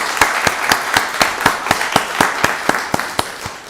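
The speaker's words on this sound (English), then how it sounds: "let's give them a round of applause" An audience at a Rockdale County Board of Commissioners meeting claps in a steady, even rhythm, crisp hand strikes landing about four times a second, fairly loud and close, with no talking over them.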